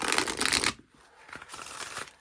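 A quick burst of oracle cards being riffle-shuffled, crisp and close, followed by softer shuffling and handling sounds.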